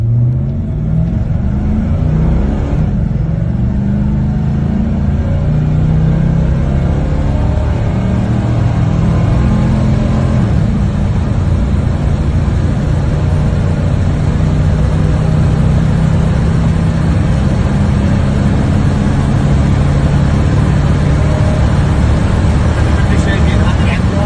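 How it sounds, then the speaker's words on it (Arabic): A GMC engine roars close by, its deep rumble climbing in pitch as it accelerates hard from a standstill, staying loud and steady for the whole stretch with no pause. "تجربة التسارع من الصفر،"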